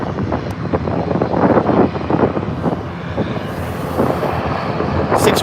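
An ATR turboprop airliner landing at Birmingham airport, its engine roar and propeller drone steady and fairly close, with wind buffeting the microphone throughout.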